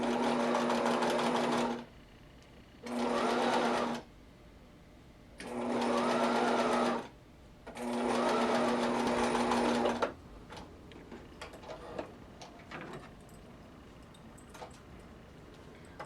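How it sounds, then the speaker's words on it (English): A sewing machine runs a straight stitch along knit headband fabric in four steady bursts with short pauses between them, followed by quiet handling clicks and rustles. No one speaks. "If you're sewing with a sewing machine, being that this stitch doesn't require any stretch along here, you can sew with a straight stitch."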